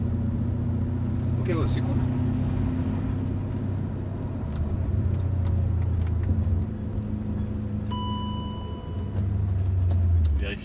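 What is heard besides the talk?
German 4.0 V8 engine with mufflers removed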